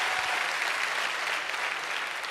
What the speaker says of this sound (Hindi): जोरदार तालियां दोस्त मेरी प्यारी सी टीम के लिए।